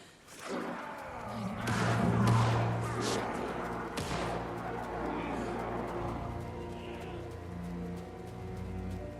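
Sharp, echoing gunfire bursts ring out early in an Alan Wake 2 Night Springs game scene, followed by a sustained low musical drone and ambient rumble.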